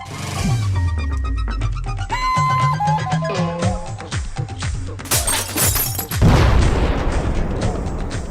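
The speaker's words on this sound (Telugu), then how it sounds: "కొత్త టీవీని పేల్చేసాడు" A new TV blowing up in a Telugu comedy movie, rendered as a loud, dense movie sound effect with sweeping electronic tones and crackles, then a heavy bursting crash and shattering noise, with no talking.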